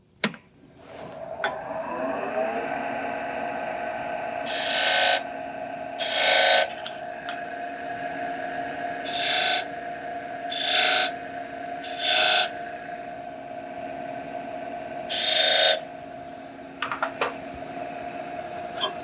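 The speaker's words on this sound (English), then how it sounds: "I'm going to follow that up with a wire, and I'm going to burn those into place" A steady lathe motor hum with repeated short bursts of harsh friction hiss as a wire is pressed against spinning wood to burn lines, each lasting about a second.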